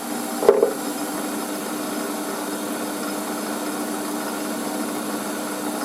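A power drill grinds steadily through wood after a sharp knock, boring a 30mm hole, the motor droning low, strained and bogging down as it bores.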